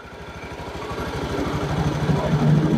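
A Honda Beat injection scooter engine running after its faulty spark plug was replaced, a close, steady low putter that idles evenly and grows slightly louder toward the end, no talking.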